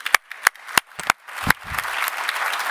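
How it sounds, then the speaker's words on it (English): An audience at a climate conference breaks into applause: a few sharp, separate claps come first, then they swell into a steady, full round of clapping from the crowd. "give yourself a round of applause"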